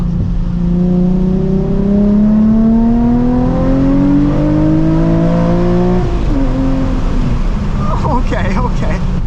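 Nissan 350Z HR engine revving hard during a downshift, pitch climbing then dropping as the revs fall, loud and close from inside the car, with brief voices and exclamations near the end.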